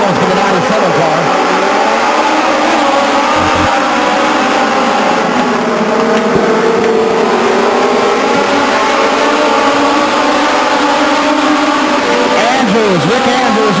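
Legends race cars roar past the grandstand at Stockton 99 Speedway, engines droning loudly with pitch sweeps as each car goes by, while an announcer talks over the noise.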